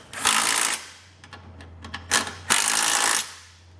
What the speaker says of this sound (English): for these bottom ones, you can grab a 17 millimeter to tighten them down